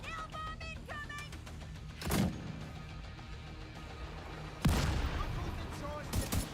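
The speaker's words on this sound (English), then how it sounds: "Watch it! Nail bomb incoming!" A nail bomb detonates in The Division 2 shooter game: two heavy, booming blasts a couple of seconds apart, each with a crackling tail, amid battle noise, with a voice briefly calling out at the start and near the end.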